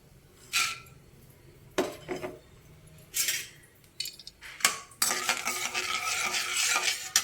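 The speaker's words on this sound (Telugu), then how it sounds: "ఈ ఆయిల్లోకి ఇప్పుడు మనం పల్లీలు వేయించుకుందాం" Peanuts dropped into hot oil in a pan and stirred, heard as separate clattering bursts of metal and nuts, then a continuous dense rattling sizzle in the final seconds.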